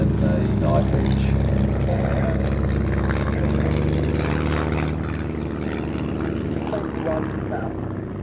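A Mono display team light aircraft flies a side slip at the Midlands Air Festival, a continuous loud propeller engine drone, steady and fairly close, with a commentator talking over it.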